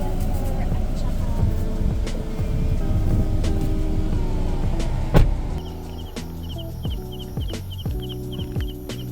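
A car engine runs with a low, steady rumble under people talking, then cuts out about halfway through, leaving quieter scattered sounds and speech.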